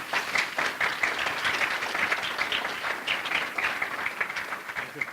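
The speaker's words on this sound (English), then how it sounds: "Can we give him another round of applause?" Steady, dense applause from a lecture audience at an atheist community talk, filling the room evenly without a break for the whole stretch, with no voices rising above it.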